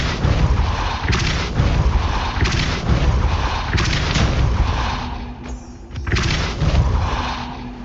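Spell impacts in the video game Hogwarts Legacy land as a series of loud, punchy booms and blasts roughly every second, with a short quieter lull before the strikes resume.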